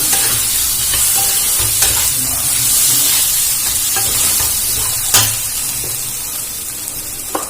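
Fried potatoes are stirred into chicken masala sizzling in a pan, with a steady close frying hiss and occasional scraping stirs throughout, no talking.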